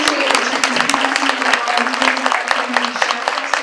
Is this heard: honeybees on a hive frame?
no